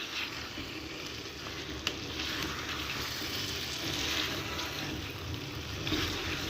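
Chicken fry being stirred in a pan with plenty of fresh coriander gives a soft, continuous frying hiss, fairly quiet and steady, with one small clink and no voices.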